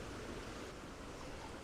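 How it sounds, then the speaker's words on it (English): Frothy water tumbling down a waterfall beside a walking track, heard as a steady, fairly faint rushing hiss with no breaks or voices. "The water's really frothy where it's coming out down the waterfall."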